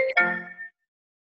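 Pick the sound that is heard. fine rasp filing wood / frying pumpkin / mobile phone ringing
mobile phone ringing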